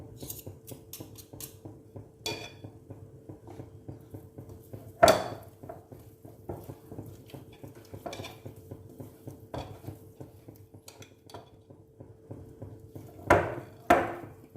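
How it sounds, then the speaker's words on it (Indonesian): Pempek fish dough of tenggiri mackerel being stirred with chopped spring onion, giving soft intermittent scraping and a few sharper knocks of utensil against the bowl at a quiet level. "Dan kita aduk lagi"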